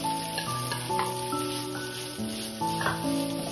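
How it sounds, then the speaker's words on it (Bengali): Steady sizzling and crackling of potatoes frying in hot oil, close and continuous, with no voices. "এবারে আমি আলু তুলে দেবো।"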